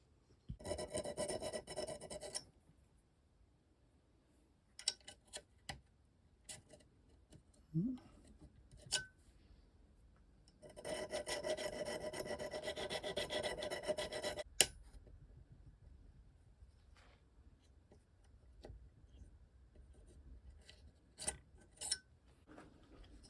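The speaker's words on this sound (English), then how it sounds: "we're just going to take a flat file and we're going to remove those burrs until we can get the piston to go the whole way in" A flat file rasps against an airsoft gun part to remove burrs, in two sustained bursts of close, gritty strokes separated by quiet stretches with small clicks and handling noises.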